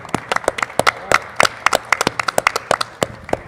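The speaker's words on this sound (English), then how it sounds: "I'd like to have a nice round of applause both for the team, for all the guests that are here" Small-group applause at a chamber of commerce podcast taping, a few people clapping in uneven, sharp, close claps for a few seconds.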